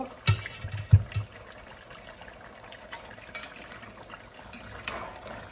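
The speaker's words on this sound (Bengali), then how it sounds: "আমি তার মধ্যে এখন একটু পানি দিয়ে দিব" Water is poured into a pot of goat meat curry in a short gush, followed by a steady low sizzle and bubbling from the cooking, with no one speaking.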